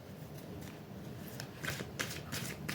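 Tarot cards being shuffled by hand for a reading, a soft continuous riffling with a few crisper flicks toward the end, close and quiet with no talking.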